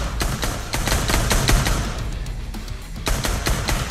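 Rapid bursts of automatic gunfire in the zombie shooter game Pavlov, sharp repeated shots cracking in quick runs over a dense, loud mix, with no talking.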